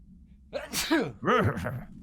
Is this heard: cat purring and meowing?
no